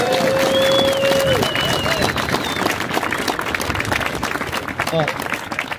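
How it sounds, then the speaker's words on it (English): Audience applause for a combined high school choir at an outdoor statue dedication, a broad wash of clapping and crowd noise that starts under a whistle-like tone and some voices, then continues steadily before thinning slightly. "Could we have another round of applause for McCaskey's combined choirs,"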